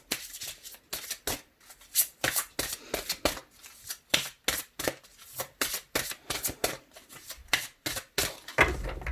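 Oracle cards are shuffled by hand in a quiet room, a quick series of crisp riffling flicks and soft slaps in uneven bursts, close and fairly soft.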